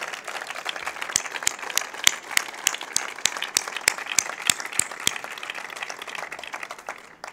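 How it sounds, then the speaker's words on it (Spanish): Applause from the crowd at a socialist political rally in a town hall, sharp separate claps ringing out over a lively background and continuing for several seconds. "Un aplauso."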